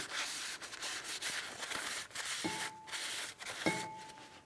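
Abrasive rubbing and scraping on the wheel bearing hub mounting surface of a 2007-2014 Ford Edge, steady and close, with two brief metallic ringing tones near the end.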